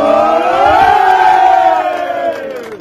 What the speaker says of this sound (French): On applaudit encore la fusée.